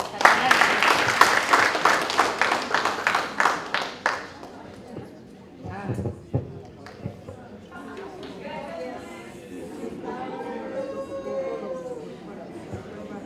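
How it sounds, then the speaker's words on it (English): A conference audience at a women's sport event claps loudly and rhythmically for several seconds. The clapping fades into scattered claps and murmuring, then people talk. "Please, let's clap for her, please."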